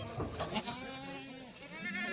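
Kathiawadi goats bleating inside a goat lorry, a steady wavering chorus of several animals at moderate level, close by, with no talk over it.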